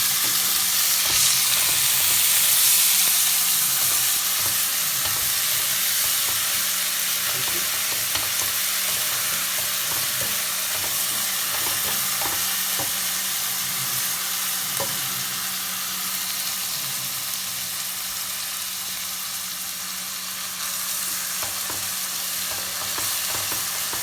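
Chopped onion frying in a pan for matar paneer, with a loud steady sizzle close up throughout, broken by faint scraping of stirring.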